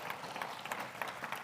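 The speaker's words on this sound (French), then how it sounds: "Est-ce qu'on peut applaudir la parole du Seigneur," A church congregation applauds, a dense, steady patter of many hands clapping at moderate volume with faint rhythmic surges.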